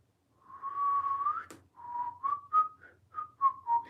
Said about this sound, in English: Try whistling again, please.